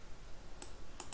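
Three sharp, faint mouse clicks with quiet pauses between them, the first one alone and the last two close together, on a computer during web development work.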